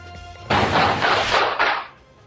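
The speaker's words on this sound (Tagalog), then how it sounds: "Biglang nagpulasa ng mga taong nasa gilid ng kalsadang yan sa Barangay Rosary Heights 3 sa Cotabato City matapos marinig ang mga putok ng baril." Gunshots in a street shooting in Barangay Rosary Heights 3, Cotabato City: a sudden loud blast followed by a few rapid, overlapping cracks within about two seconds, harsh and close.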